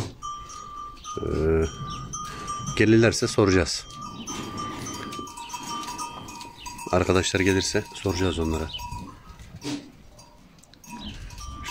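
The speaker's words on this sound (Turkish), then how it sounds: "Keçi yavruları var, oğlaklar var." Goats and young kids at a highland pen in Silifke's Haçka plateau bleat repeatedly in loud, close bursts, alongside a steady high ringing tone and a voice talking between the cries.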